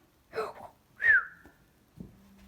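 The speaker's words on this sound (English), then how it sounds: "I've learned how to whistle recently" A person whistling a few short, separate notes, one a brief sliding tone, close and clear in a quiet room.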